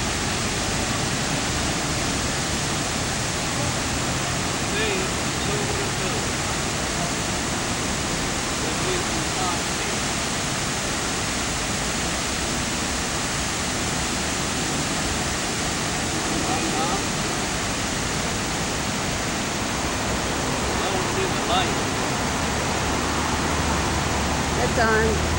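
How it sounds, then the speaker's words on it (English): A big waterfall at a Las Vegas resort near an Eiffel Tower replica, heard as a steady, dense roar of rushing water that persists without break throughout. "Big waterfall there."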